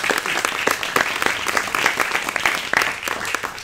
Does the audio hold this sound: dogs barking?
no